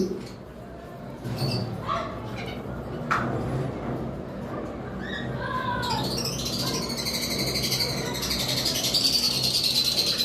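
Baby lovebirds in a pet bird setup chirp and tweet in a busy, overlapping chorus, growing denser and brighter toward the end, with a dog barking faintly in the background.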